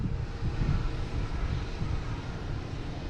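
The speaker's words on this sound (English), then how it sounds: "we have a JetBlue A220 heading to Jacksonville" JetBlue Airbus A220 jet at Boston Logan International Airport, a steady broadband engine roar with low rumble, moderately loud and continuous, with some wind noise and no talking.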